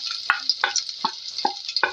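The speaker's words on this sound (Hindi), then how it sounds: "फ्राई किया मैंने प्याज को" Chopped medium-size onion frying in oil for a moong masoor tadka dal, a steady close sizzle broken by five sharp stirring scrapes at regular intervals.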